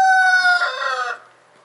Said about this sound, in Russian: Ну там, видишь, маленькие эти фаверольки. Вот как они с большими? Вдруг большие куры будут долбать?